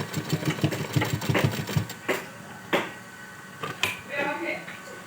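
A sewing machine runs in short bursts of rapid stitching on fabric for a baby girl's dress, then stops and starts with a few sharp clicks, while someone talks.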